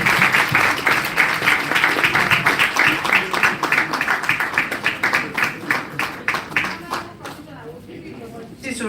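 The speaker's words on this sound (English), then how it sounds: "you can see everybody is clapping" A conference panel audience at a property investment and smart cities event breaks into sustained clapping that gradually thins and fades out, with voices mixed in.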